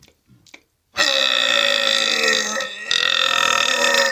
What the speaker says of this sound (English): make yourself burp, you know?